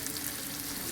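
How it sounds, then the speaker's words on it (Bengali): Turmeric fries in oil, a brief, faint, even sizzle with soft crackle and no talk. "এখানে আমি কিছুটা হলুদ দিয়ে একটু ভেজে নিচ্ছি"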